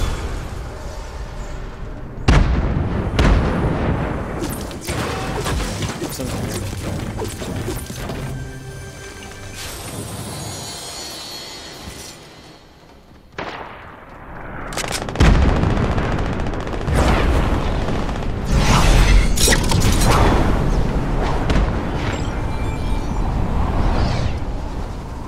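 Repeated explosions and crashing blasts in a video game, loud and close, with several sharp impacts around the middle and a dense burst of booms and rumble toward the end.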